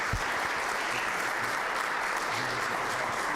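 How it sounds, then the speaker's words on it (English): Board of Education members give a student scholar athlete a round of applause during a virtual meeting, a steady wash of clapping that holds evenly from start to finish without a break. "Let's give Caden another round of applause."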